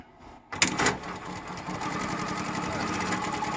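A Juki DDL-9000C industrial sewing machine starts up after a brief quiet moment and runs steadily, a loud continuous whirring stitch drone close by.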